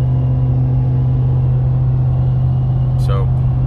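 Steady, loud engine rumble and road drone from a vehicle leading a convoy north on a foggy road before hitting off-road trails, continuous throughout with a brief faint chirp near the end.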